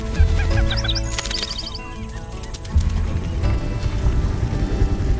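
Free-ranging birds on a ranch among cattle give short, clucking mating calls in quick bursts over a steady, dense low rumble of background noise.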